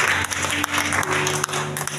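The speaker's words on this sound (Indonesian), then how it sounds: "Berikan tepuk tangan terbaik buat Tuhan." Loud, continuous applause from a church congregation, a steady wash of clapping with a low hum running underneath and occasional sharper claps standing out.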